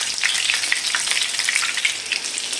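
Egg nargisi koftas frying in hot oil give a dense, close, steady crackling sizzle with fine bubbling pops throughout, and no talking.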